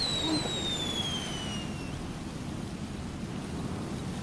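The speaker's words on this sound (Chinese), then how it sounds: "是烟花吗？" Fireworks going off outdoors at night, heard as a steady, dense crackling roar with a few whistling rockets rising and fading early on, continuous and moderately loud with no voices.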